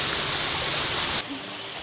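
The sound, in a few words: waterfall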